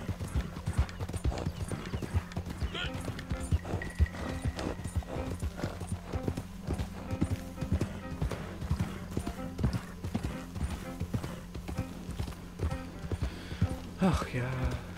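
A ridden horse in the video game Red Dead Online trots with rhythmic, close clip-clop hoofbeats that continue without a break, over a low droning background, with brief sharper noises near the end.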